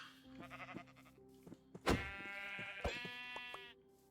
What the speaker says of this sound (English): Maybe kill the sheep down the way.